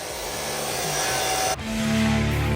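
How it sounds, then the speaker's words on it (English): A wooden crossbeam for a shed storage mezzanine being cut with a saw, a steady, continuous rasping cut that shifts pitch and grows slightly louder partway through, close and without talk. "Here we are cutting the crossbeam for the middle post."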